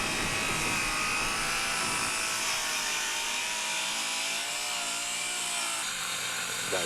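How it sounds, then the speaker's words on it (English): Workers saw through a floor during demolition of the Spartan Bowl, a continuous, harsh, grinding whine that drones steadily throughout. "Guys sawing the floor, I think."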